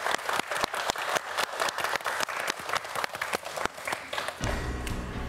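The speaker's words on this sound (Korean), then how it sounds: "네 학생 모두에게 큰 박수 부탁드립니다." A studio audience applauds quiz contestants on a science quiz show, a steady burst of clapping lasting several seconds before fading into music.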